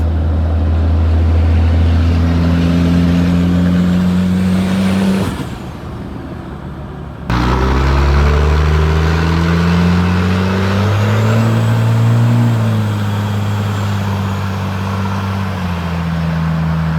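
Cummins diesel truck engine fitted with big injectors idles and warms up with a loud, steady low drone, a brief dip midway, then a fluctuating idle that shifts in pitch, close by with no talking.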